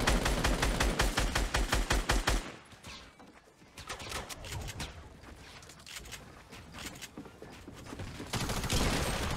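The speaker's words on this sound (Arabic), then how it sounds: "اطلق على اخر واحد زين" Automatic gunfire in Fortnite: a fast, loud, steady stream of rapid shots that breaks off into scattered, fainter bursts and mixed battle noise.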